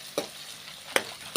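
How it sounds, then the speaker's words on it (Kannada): Garlic chicken for a gojju fries in a pan to golden brown, giving a steady close sizzle broken by two brief scraping stirs. "ಗೋಲ್ಡನ್ ಬ್ರೌನ್ ಬರೋವರೆಗೂ ಫ್ರೈ ಮಾಡ್ಕೋಬೇಕು."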